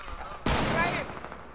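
Sustained burst of rapid gunfire from a minigun in a multiplayer shooter video game, loud and close, starting abruptly and running about a second before tapering off, with faint voices around it.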